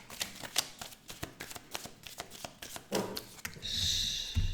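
Tarot cards being shuffled by hand before a 13-card spread, a run of soft rapid riffling flicks close to the microphone, ending in a longer brushing rustle, quiet and without talk.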